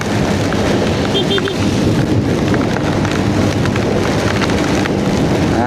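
Heavy rain drums continuously on a moving car, a dense loud wash of patter with a faint tone briefly audible early on.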